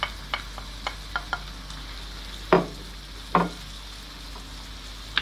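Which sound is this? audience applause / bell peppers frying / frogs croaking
bell peppers frying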